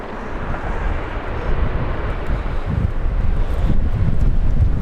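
A United Airlines airliner at Los Angeles International Airport, a loud, broad roaring engine rumble that builds slightly over a few seconds, mixed with wind buffeting the microphone.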